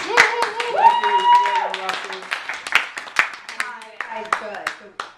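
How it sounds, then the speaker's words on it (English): Audience clapping for a group of young men, a run of sharp, uneven hand claps mixed with a voice singing or speaking over it, fairly close and moderately loud. "A round of applause for these young men."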